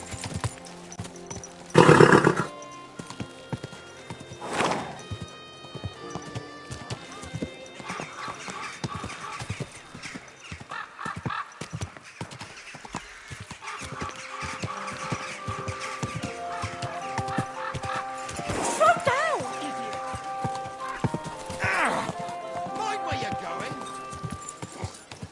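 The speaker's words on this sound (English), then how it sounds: "Watch out with that horse!" A horse moves about with scattered clip-clopping hoof falls and an occasional loud whinny, amid rustling and background voices talking.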